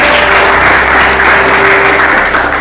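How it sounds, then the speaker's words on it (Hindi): A church congregation claps loudly and continuously in praise of the Lord, a steady dense wash of applause with a faint sustained tone underneath. "ताली बजाइए प्रभु के लिए।"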